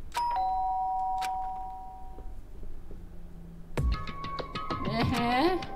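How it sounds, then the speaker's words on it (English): Doorbell chime in the video game Danganronpa, a clear ringing tone sounding near the start and again a few seconds later over quiet background music, followed by a brighter burst of game sound effects. "did I hear the doorbell?"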